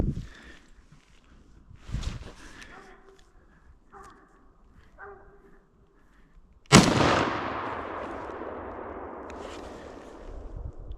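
A single sharp rifle shot, loud and close, is fired at a wild boar during a hunt. Its echo decays over several seconds across open terrain, following quieter rustling and faint distant sounds.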